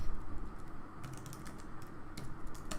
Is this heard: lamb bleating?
no